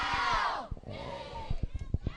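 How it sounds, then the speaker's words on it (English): A crowd at a football game, HLV against Calamus Wheatland, yells loudly at the players, a roaring mass of voices with a sharp cry and nearer talk over it. "We got the crowd going crazy here, yelling at HLV"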